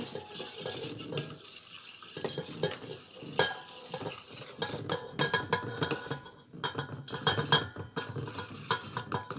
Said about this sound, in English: you just dump it a little at a time and stir